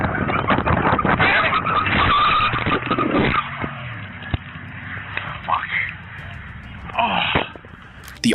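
A car races and skids during a high-speed police chase, engine roaring loud and continuous with tire squeal, fading somewhat later as a voice talks over it.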